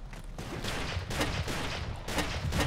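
Bolt action rifle fire in the blocky online shooter Ace of Spades, several loud booming shots in quick succession over a dense, noisy battle background.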